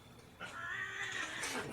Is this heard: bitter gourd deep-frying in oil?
no